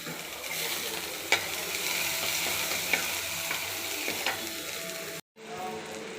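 Steady sizzling of onions frying in hot oil, with occasional scraping clicks of a utensil stirring, briefly cutting out near the end.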